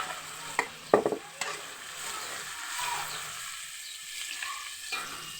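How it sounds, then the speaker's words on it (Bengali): Potatoes fry in a pan with a steady hiss while a utensil scrapes and stirs in a few sharp clatters near the start, the sizzle continuing alone afterward. "আমার আলুগুলো সব ভাজা হয়ে এসছে"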